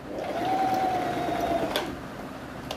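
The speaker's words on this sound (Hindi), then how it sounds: "सिलाई करने के बाद मैंने इसको इस तरह ओवरलॉक कर लिया है।" An overlock sewing machine stitches a fabric edge on a round abaya hijab with a brief, close, continuous whirring run, then stops.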